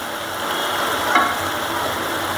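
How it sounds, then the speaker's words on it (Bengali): Baim fish frying with coriander leaves in oil, a loud unbroken sizzle heard up close with a brief scrape or clatter near the middle. "এখন আমি তুলে নেব, পুরো পোড়া ভাজা হয়ে গেছে।"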